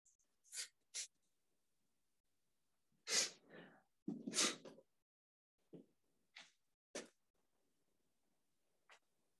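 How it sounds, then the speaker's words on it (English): Several sneezes in a quiet room, coming in short bursts: a pair, then a louder cluster, then a few scattered ones, each sharp and close with silence between. "I think I'm going to just keep sneezing while you work."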